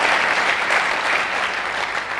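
Loud, sustained applause from an audience honouring Sunhari Lal ji, a dense and steady wash of many hands clapping together throughout, with no voices standing out.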